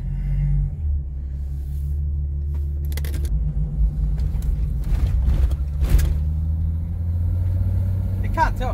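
A vehicle with a turbocharged 1FZ-FE engine drives on a road, its deep, steady rumble filling the cabin with shifting engine hum. People talk over it in the cabin.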